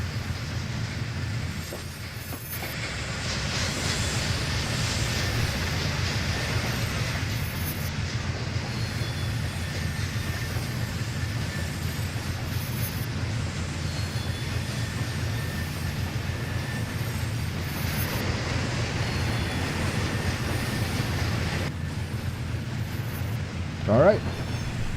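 Diesel locomotive engine in the Trainz railroad simulator, running wide open and pulling away with a low, steady grumble that carries continuously under intermittent talk.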